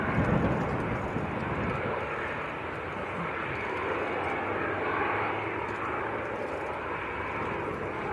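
A Ryanair airliner coming in to land at Manchester Airport, with a steady broadband engine roar that holds fairly constant and moderately distant throughout.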